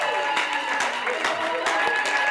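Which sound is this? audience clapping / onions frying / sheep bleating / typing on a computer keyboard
audience clapping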